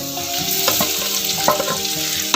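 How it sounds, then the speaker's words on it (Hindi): Small cubes of chicken frying in hot oil with sautéed garlic for Chinese fried rice, a constant close sizzle broken by repeated scraping stirs of a spatula against the pan, no voices. "ये लहसुन को मैंने सौते कर लिया है और अब इसमें जाएगा चिकन।"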